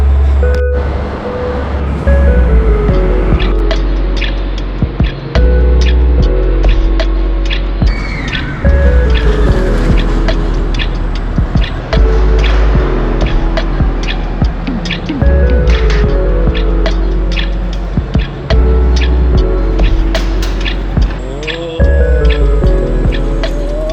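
Long ride aboard the El Loco roller coaster at Adventure Dome in Las Vegas, an intense indoor coaster opened in 2014, with continuous loud rumbling, rattling and clattering of the cars on track and sharp clicks throughout.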